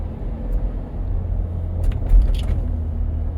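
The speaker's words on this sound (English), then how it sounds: "I'm gonna go over these speed bumps with some pretty good speed and see if we get any sound from that" A 2021-or-later Ford Bronco rolls fast over a speed bump, its low road rumble swelling briefly into a single heavier thump near the end, with no rattle following.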